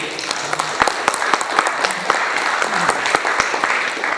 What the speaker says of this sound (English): would you all join me in a round of warm applause for this guy